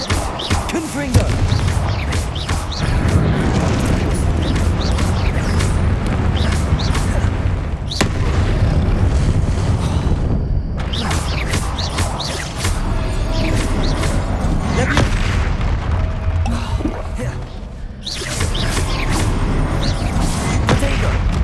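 Confringo spell blasts in Hogwarts Legacy gameplay: repeated booming explosions and crashes mixed with combat effects and music. They come in loud bursts over about twenty seconds, with a short lull partway through.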